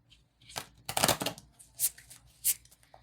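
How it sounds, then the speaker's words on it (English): A deck of tarot cards is shuffled nearby in a run of soft riffling and slapping bursts, with a short pause between them. "Let's give it one more shuffle just in case."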